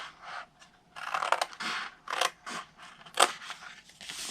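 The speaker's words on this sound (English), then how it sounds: "cut to the second score line, and then we're going to cut them completely off." Scissors snip through scored paper cardstock for a Christmas tree cake box, several close, crisp cuts in uneven bursts with short pauses between them.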